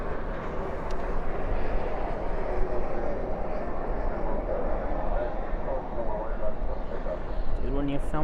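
A steady, broad roar of a jet airplane at DFW airport at night, sustained and moderately distant, with faint talking under it.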